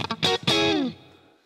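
Electric guitar, a Strat, played through a Hughes & Kettner Black Spirit 20 amp with the boost engaged, giving a thick clean tone: a few quick plucked notes, then a chord ringing out loudly and decaying over about a second.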